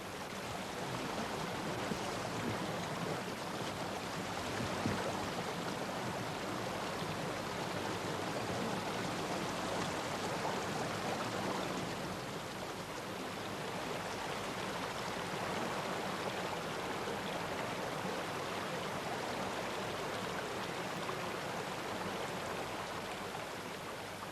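A mountain beck flows over rocks during a hill race, a steady rushing babble of water that holds evenly throughout, fairly close and with no talk.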